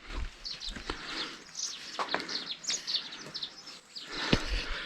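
Many birds perched in a walnut tree in the hills chirp and tweet continuously in overlapping bright calls, close and fairly loud, with a soft rustle beneath.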